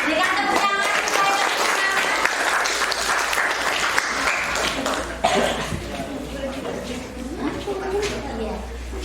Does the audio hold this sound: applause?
yes